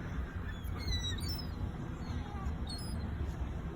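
Geese honk at an outdoor spot, a scatter of faint calls over a steady background of noise, distant rather than close.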